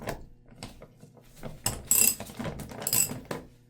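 Ratchet clicking in short bursts while removing the four oil filter housing screws on a 2008 Lexus IS F, close and moderately loud with a few louder metallic clicks, no talking.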